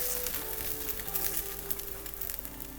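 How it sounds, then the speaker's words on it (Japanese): A hamburg steak sizzles in a frying pan being shaken, a soft continuous hiss with faint crackles, fairly quiet and steady. "フライパンって温度がこっちの方が高いので、ちょっと揺すってあげる"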